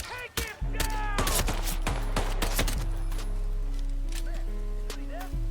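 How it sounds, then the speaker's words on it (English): Rapid bursts of gunfire in the video game Nobody Wants To Die crack repeatedly over a steady low hum, with sharp shots and clattering effects filling the whole stretch. "We got gunshots."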